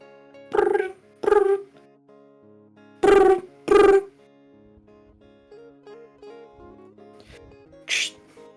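A telephone rings during a call in a loud, distinct double-ring pattern: two pairs of tonal bursts with quiet gaps between them, then a shorter, higher tone. The rings are close by, and there is no talking.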